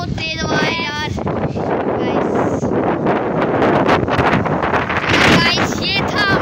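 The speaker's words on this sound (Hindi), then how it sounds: "बहुत तेज हवा है यार।" Strong wind buffets the microphone outdoors on open ground with a constant roaring rush throughout, and a few brief high whistling or squeaking sounds break through near the start and end.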